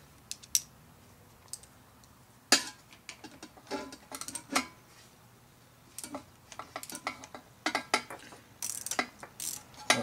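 Close, sharp ratchet clicks in irregular bursts as bolts on a 2007 Kawasaki KLX 250 cam chain tensioner are loosened gradually, with quiet pauses between the strokes and no talking.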